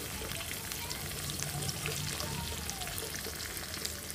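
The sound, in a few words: spice tempering frying in oil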